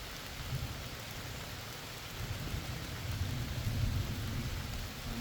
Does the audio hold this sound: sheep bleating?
no